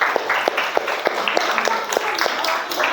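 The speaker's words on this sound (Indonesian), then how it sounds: "Beri tepuk tangan untuk kelompok 5." Group 5 is applauded at a classroom teaching performance session: light scattered clapping from a modest group, a few seconds of irregular claps close by.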